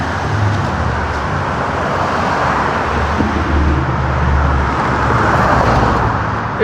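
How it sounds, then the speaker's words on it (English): Steady street traffic on a small Arkansas town's main street, cars and buses rumbling past continuously with a broad, constant roadway roar, fairly loud and close throughout, no one talking. "It would be a little more romantic if there wasn't so much traffic"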